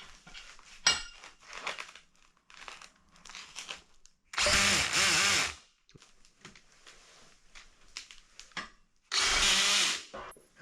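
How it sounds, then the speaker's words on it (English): A cordless drill with a 5mm hex bit drives bolts into an Ikea Kleppstad double bed frame at low torque, giving two loud bursts of whirring about a second long, with clicks and handling noises between. "That is a 5mm hex bit, and we'll do it up to quite a low torque"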